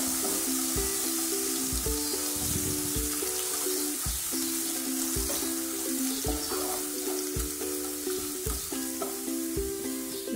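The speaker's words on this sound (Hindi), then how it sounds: "लहसुन को हम ज्यादा एकदम ब्राउन नहीं करना है" Garlic frying in oil in a pan for a Rajasthani halwai-style moth curry, a steady close sizzle that runs unbroken under a continuous tonal musical backing.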